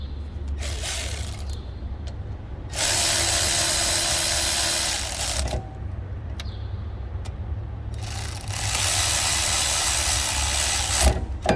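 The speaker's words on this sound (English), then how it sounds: "Going to reinstall our screws." A power tool drives the rear brake caliper screws back in on a 2017 Honda Civic, giving two long, loud whirring bursts with quieter pauses and small clicks in between.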